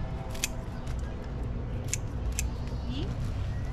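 Scissors snip through a flower stem while a bouquet of garden flowers is trimmed, giving a few sharp, close clicks over a steady low background hum.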